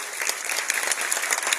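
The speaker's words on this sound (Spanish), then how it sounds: "Este aplauso para Ángel David, de hace 3 años." A short burst of dense, steady applause from a crowd, loud and continuous throughout.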